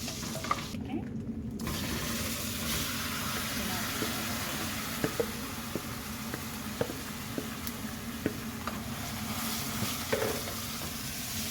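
Chicken pieces fried in oil with mustard seeds and fried chillies for a carat biryani masala are stirred in a pan, a steady sizzle with scraping spoon clicks at intervals, close and continuous.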